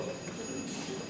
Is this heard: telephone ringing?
yes